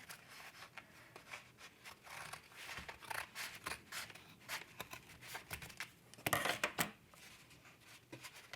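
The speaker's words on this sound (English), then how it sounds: "I'm just going to come in and trim off the extra" Scissors snip away excess canvas along the edges of a stretched painting, a series of close, crisp cuts and rustles with a louder snip near the end, no one talking.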